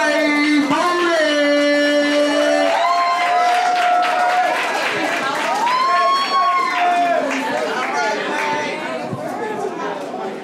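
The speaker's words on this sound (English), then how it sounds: "Y'all better clap y'all hands." A spoken-word event audience claps and cheers in a sustained burst while an emcee talks loudly over the crowd noise and a few whoops rise through it.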